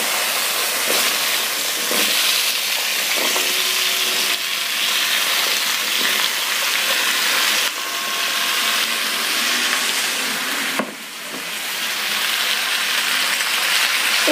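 Washed, drained Malabar spinach stems and vegetables slide into spices frying in a pan for vegetarian pui datar chachra, a loud, sustained sizzling hiss with brief crackling surges and a sharp clatter near the end, no talking.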